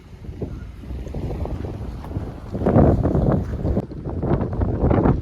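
Strong wind roars and buffets the microphone in rising, rumbling gusts, growing louder partway through.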